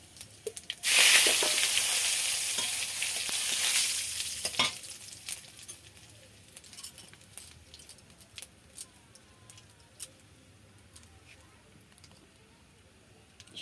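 Panch phoron spices and bay leaf hit hot oil with a loud, bright sizzle for the first few seconds that gradually fades to a quieter crackle and a few scattered stirring clicks.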